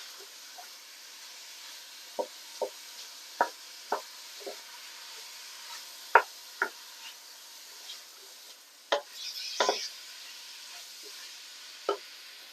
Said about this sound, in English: Just give that a real good stir